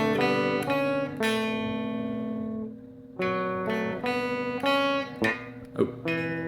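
An electric or acoustic guitar slowly picks out a riff, a steady sequence of single plucked notes and chords that ring out and overlap, played up close with no talking.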